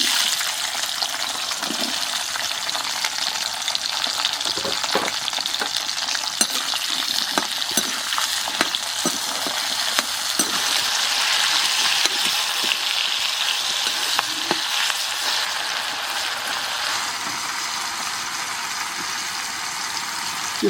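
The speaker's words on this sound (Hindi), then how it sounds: "यहाँ देखिए तेल गर्म हो गया, यहीं पे हम डालेंगे कचरी को और इसे फ्राई कर लेंगे।" Kachri crackling and sizzling in hot mustard oil in a wok, a loud continuous frying hiss with scattered pops and stirring scrapes, no talk over it.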